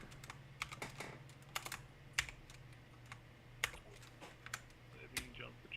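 Rapid clicking keystrokes on a computer keyboard come in irregular bursts, close and crisp, with a low steady hum underneath and some faint talk mixed in.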